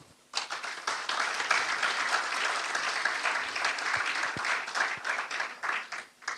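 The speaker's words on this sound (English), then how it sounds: "round of applause." Conference audience gives a strong round of applause in a meeting hall, a dense sustained burst of clapping that starts abruptly after a brief quiet and continues steadily to the end.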